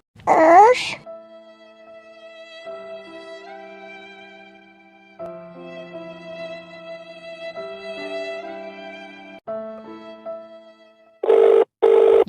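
A telephone rings during a Bengali comedy skit: sustained melodic ringtone tones run for about eleven seconds at moderate loudness, a short vocal sound opens the clip, and loud bursts close it.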